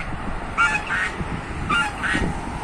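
Wild ducks on the sea give repeated nasal honking calls in two paired bursts, moderately close over a steady background of wind and water.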